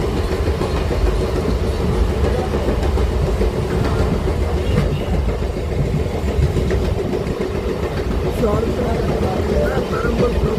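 An express train on a suburban railway line near Avadi, a continuous heavy rumble with rhythmic clacking of wheels on rails that stays loud and steady throughout, with people talking over it.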